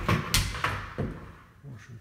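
An apartment door is opened and shut, giving several close thumps and knocks in quick succession followed by a softer bump.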